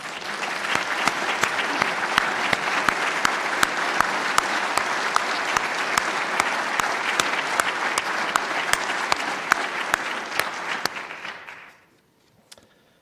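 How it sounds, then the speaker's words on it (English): Sustained audience applause at an academy annual meeting, dense clapping from a large crowd with crisp individual claps, holding steady for about eleven seconds before stopping abruptly. "So if you can give a round of applause."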